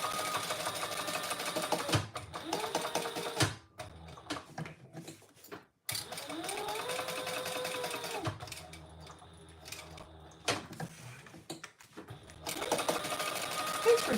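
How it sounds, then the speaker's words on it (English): A sewing machine top stitches, with steady bursts of stitching broken by short pauses and a few handling noises, close and fairly loud. "Then we will top stitch here."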